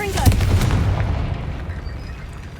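A Confringo fire spell blast in Hogwarts Legacy goes off with a loud, booming burst near the start, followed by a rumbling tail that slowly fades.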